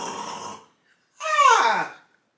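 A voice imitates loud open-mouthed snoring, giving two drawn-out snore sounds separated by a short silence, close and clear.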